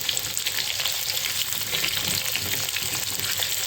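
Potatoes frying in oil in a pan, a dense continuous sizzle with faint stirring, close and moderately loud with no talk.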